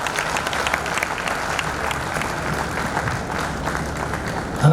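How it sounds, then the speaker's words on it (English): A conference crowd at a 2019 Anambra business and investment round-table claps for a speaker, a full sustained burst of applause staying loud and level to the end. "Another round of applause"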